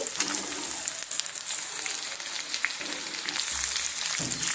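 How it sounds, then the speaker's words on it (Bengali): Drumsticks and potatoes fry with onions in a pan for a Bengali brinjal and prawn dish, giving a steady bright hiss of sizzling oil with a few soft stirring bumps, close and continuous without speech. "সজনে ডাঁটা আর আলুটা দিয়ে পেঁয়াজের সঙ্গে সুন্দরভাবে কষিয়ে নিতে হবে"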